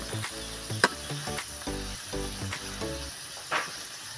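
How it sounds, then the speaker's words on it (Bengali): Spinach and flour paratha fries on a griddle with a quiet, continuous sizzle and occasional louder crackles, low in level throughout. "তবে পরোটাটা আমি এইভাবে সবগুলো ভেজে নেব"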